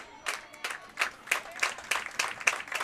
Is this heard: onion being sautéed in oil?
no